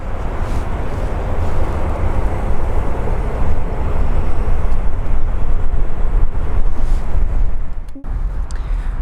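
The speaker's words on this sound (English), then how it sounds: "So here we have a beautiful SAUDIA Airbus A321 251 NX headed to Jeddah" A Saudia Airbus A321neo jet airliner at Frankfurt Airport roars loudly and steadily with broadband engine thunder, holding close and strong before a brief dip near the end.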